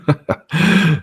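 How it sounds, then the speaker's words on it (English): A dog coughs: two short hacking bursts followed by a longer, harsh rasping hack, close and fairly loud, with no talking. "Is that your dog? Coughing up his..."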